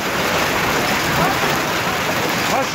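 Walnut-sized hail pours down on fruit and vegetable gardens in Malatya, a dense, unbroken rattling hiss of countless impacts, loud and close, steady from start to finish.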